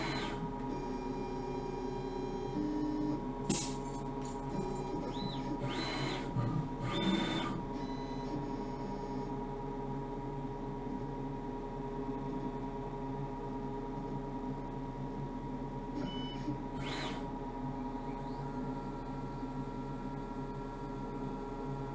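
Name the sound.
CNC mill machining top of double-sided circuit board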